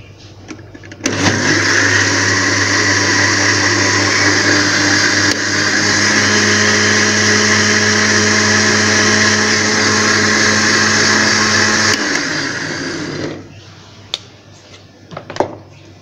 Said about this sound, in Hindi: ये दही फुलकियों के लिए जो है दही ग्राइंड करनी है